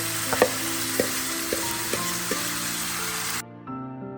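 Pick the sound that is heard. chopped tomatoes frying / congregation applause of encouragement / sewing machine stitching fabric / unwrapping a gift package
chopped tomatoes frying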